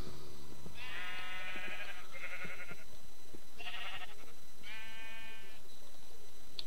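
Sheep in the video game Minecraft bleat several times in short, clear, wavering calls over a steady faint background hum, with no talking.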